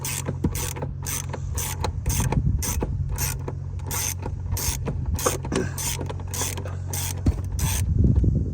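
Plastic millimeter screw being twisted loose by hand during a flashlight LED kit install, a quick series of sharp ratcheting clicks and creaks in a fairly regular rhythm, close up and alone.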